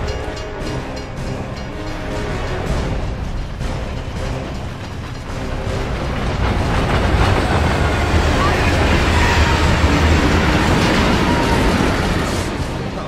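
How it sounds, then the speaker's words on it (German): In the Gears of War 3 video game, a train rushes into a tunnel: a loud mechanical rumble and roar that swells midway and holds steady, heavy and close. "da kommt ein verdammter Zug reingerauscht"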